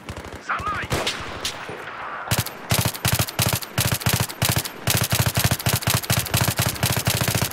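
Rapid automatic gunfire in a Battlefield 3 team deathmatch mod, loud close bursts and sustained rattling volleys that grow denser, with a brief voice early on.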